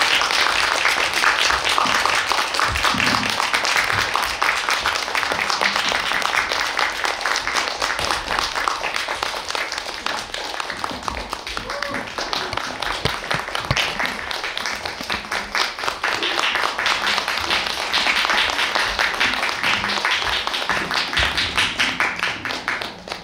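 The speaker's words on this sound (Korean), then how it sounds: "박수 길게 치셔야죠." An audience claps at a film's audience talk event. The applause is sustained, dense and even, with no voices over it.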